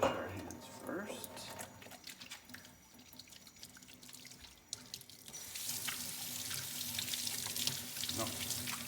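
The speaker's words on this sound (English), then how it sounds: "let's wash our hands first" A kitchen tap runs steadily while hands are washed under it before mixing sourdough bread, giving a continuous splashing hiss that swells louder toward the end and carries faint background voices.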